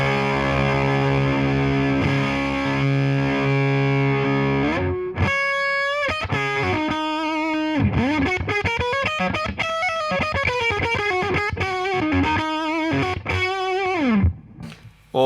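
Electric guitar played through a Fender Pelt Fuzz pedal with the mids scooped, giving a thick, saturated fuzz tone of sustained chords followed by a busy run of notes, loud and steady with no talking.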